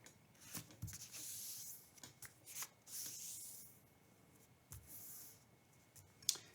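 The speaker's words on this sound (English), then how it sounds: "turn to the white side and fold corner to corner" Origami paper folded corner to corner on a table, quiet crisp rustles and creasing swipes in brief bursts, close and soft, with no speech.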